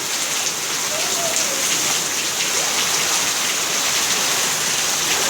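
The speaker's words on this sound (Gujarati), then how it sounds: "આમ જો વરસાદ શરૂ થઈ ગયો છે" Rain falling steadily in a village, a dense continuous hiss of drops on surfaces, close and unbroken throughout.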